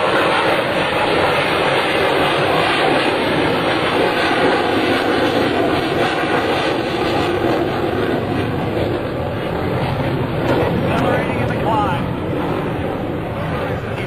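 An F/A-18C Hornet fighter jet at a naval air station airshow goes to maximum afterburner, a loud, continuous roaring thunder that holds steady under an announcer's commentary.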